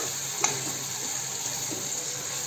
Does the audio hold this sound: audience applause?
no